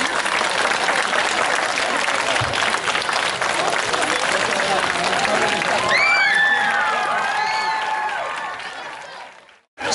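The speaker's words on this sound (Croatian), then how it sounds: "Molim vas jedan veliki aplauz za njih" A large audience at a folklore ensemble performance gives sustained loud applause mixed with crowd noise and a few shouts. It fades out near the end, then a new sound cuts in abruptly.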